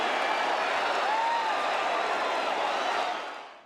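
A crowd at a 1993 NCAA wrestling title match at 142 pounds applauds after the bout, a steady wash of clapping and cheering from a distance that holds evenly and then fades away.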